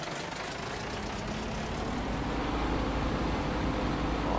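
A truck engine in Farming Simulator 19 runs steadily at idle, a continuous low rumble with a slight rise in level partway through, heard alone with no talking.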